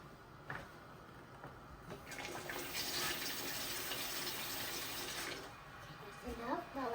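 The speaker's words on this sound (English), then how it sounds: "I'm gonna be putting inside my water" Water pours into a pot from a tap for cheesy potato pops, a soft steady splashing flow lasting a few seconds, faint and under low background noise, with a voice talking faintly nearby.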